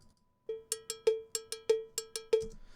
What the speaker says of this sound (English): I added that with some cowbells right here